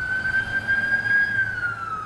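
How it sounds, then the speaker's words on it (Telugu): An emergency vehicle siren sounds as a sustained, slowly gliding wail that holds steady at moderate distance before sliding downward near the end, over a low rumble of street noise. "న్యూయార్క్ అంతటా ఇప్పుడు నిత్యం సైరన్ మోతలే వినిపిస్తున్నాయి"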